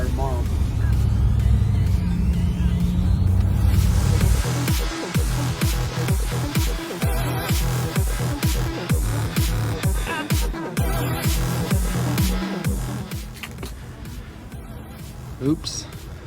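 A vehicle rolling slowly on a flat tire gives a low engine rumble and then a steady, rhythmic thumping that repeats with each wheel turn and fades slightly toward the end.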